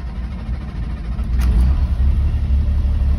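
Tandem dump truck engine starting up and settling into a low, steady rumbling idle, the throb growing heavier after the turnover, close and loud.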